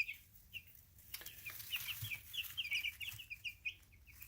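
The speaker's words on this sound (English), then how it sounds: "Super nice active chicks," Small baby chicks peep in a brooder, a run of high, thin cheeps that keep overlapping and come fast and close. Soft rustling and light fluttering of the young birds sit underneath.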